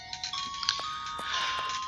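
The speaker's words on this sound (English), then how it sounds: "my phone's ringing, but I'm not answering it just yet." A phone ringing inside the Sherlock Holmes vs Jack the Ripper video game plays as a quiet, repeating electronic tone pattern with steady pitched notes and no talking.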